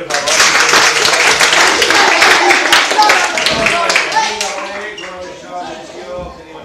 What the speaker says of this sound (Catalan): Un aplaudiment, per favor.